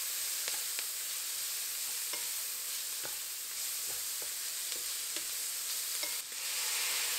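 Pork belly stir-fries with scallion roots and minced garlic for jjamppong, a constant loud sizzle with repeated light scrapes and taps of a utensil against the pan.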